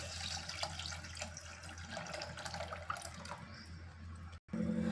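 Water pours steadily into a pot of tamarind fish curry, a continuous splashing rush that cuts off abruptly near the end.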